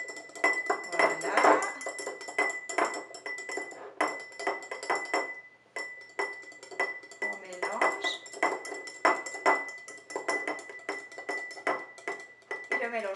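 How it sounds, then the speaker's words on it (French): A utensil stirring black cumin oil and gel sugar in a bowl, with steady rhythmic clinks and scrapes against the sides, close and clear, while a voice talks intermittently. "l'huile de cumin noir plus le sucre à gel. Tout en mélangeant."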